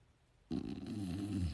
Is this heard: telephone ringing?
no